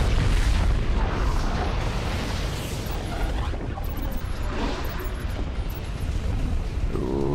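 An orbital cannon blast in the Infinite Crisis video game, a heavy booming explosion with a deep rumbling roar that lingers and swells through the clip, with no speech.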